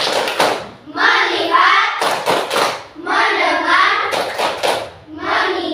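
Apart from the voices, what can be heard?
children doing rhythmic focus clapping chant in class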